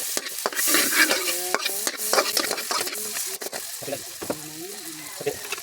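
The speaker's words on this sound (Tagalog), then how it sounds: "dito na rin tayo mag igisa ng ano nating udong" Udon noodles being sautéed and stirred in leftover frying oil, with steady sizzling and frying crackle beneath repeated scraping stirs of a utensil in the pan, close and fairly loud throughout.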